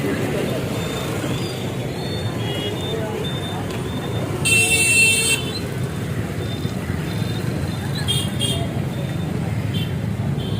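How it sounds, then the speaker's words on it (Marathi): A car is parked along a rain-wet city street while traffic rumbles steadily nearby, with a short burst of horn toots in the middle and a few fainter beeps later. "तोपर्यंत जितेंद्रराव गाडी पार्क करत आहे"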